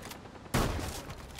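Gunfire in Rainbow Six Siege, starting as a sudden loud burst about half a second in and continuing as a rapid rattle of shots that gradually thins out.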